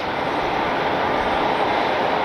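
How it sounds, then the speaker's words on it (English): A Spirit Airlines Airbus A320 jet airliner in the Skittles livery roars past at an airport, a loud, steady broadband engine rush filling the short stretch without pause. "It's a Spirit Skittles livery A320."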